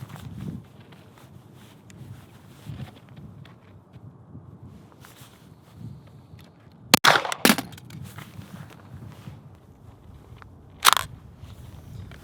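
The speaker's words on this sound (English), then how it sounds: "I'm gonna do a couple shots in semi right now." A Kriss Vector 9mm pistol fired in semi-automatic, giving a few sharp, fairly quiet reports: two shots close together near the middle, then a single shot later, over a low background hush.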